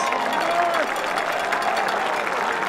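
Football fans in the stands applauding the homecoming court at a Boerne Greyhounds versus Sweetwater Mustangs game, a steady wash of crowd clapping with an announcer's voice over it.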